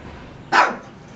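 A dog gives a single short bark, fairly close and loud, then quiet background hum.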